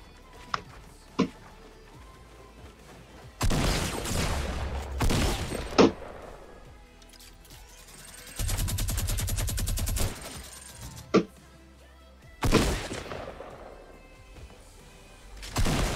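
Gunfire in Fortnite Battle Royale, bursts of rapid automatic shots broken by pauses, mixed with a few sharp single cracks, some loud and close, others quieter and farther off.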